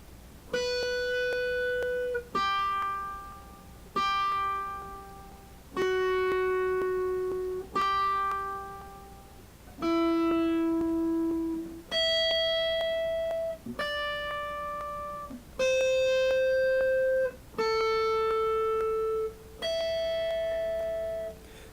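A guitar plays a song's synth line as about eleven single plucked notes, each left to ring and fade for roughly two seconds before the next, clean and alone.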